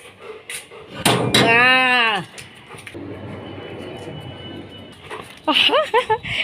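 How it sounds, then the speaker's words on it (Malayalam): A dog whimpers and yelps in drawn-out, rising cries, then a few short yips later, with people talking around it in a room. "സുന്ദർ നായനാണ്"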